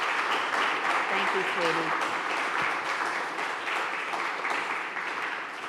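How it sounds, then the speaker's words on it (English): An audience at a College of Charleston speaker series applauds its presenters with sustained, dense clapping throughout, while a voice speaks briefly over it. "Let us give our presenters a big round of applause"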